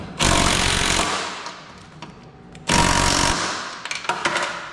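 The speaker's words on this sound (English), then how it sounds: "don't hate on the Makita cordless hex drive impact" A Makita cordless hex-drive impact driver hammers in two loud bursts while working on a Datsun 510 strut during a 280ZX coilover conversion, each rattling burst running about two seconds before trailing into lighter clicks and handling noise.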